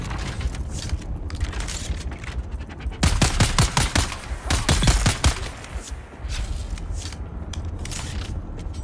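Rapid gunfire in the Dune Awakening video game, with a dense burst of sharp shots in the middle over a steady background of game ambience and fainter scattered shots.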